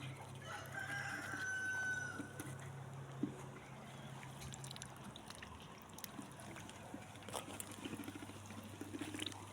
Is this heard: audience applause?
no